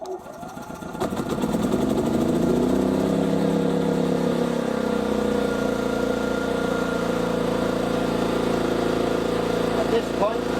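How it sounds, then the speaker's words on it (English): A HY3200SEI 3200-watt inverter generator starts by remote and settles into a steady, loud running drone after a brief rough startup, continuing evenly to the end. "At this point, with the generator running, you can apply the load."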